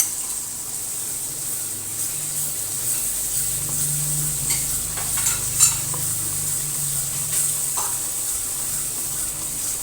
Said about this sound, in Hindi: अब ये हमारा मसाला अच्छे से दही डाल के भी हमने भून लिया।